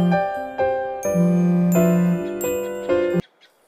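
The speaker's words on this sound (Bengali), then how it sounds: "এরপর রতন বাড়ি এসে চন্দ্রানীকে ফোন করে।" A phone rings for an incoming call, playing a bright repeating ringtone melody of chiming tones for about three seconds before it cuts off abruptly.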